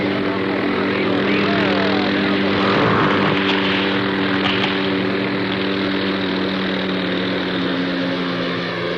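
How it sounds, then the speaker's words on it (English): Helicopter flying in to lift expedition gear onto a jungle mountain near Angel Falls, Venezuela; a loud, steady rotor and engine drone with low tonal hum continues throughout, with faint voice in the mix. "A helicopter is hired in Caracas and flown in the 300 miles to lift the gear onto the mountain"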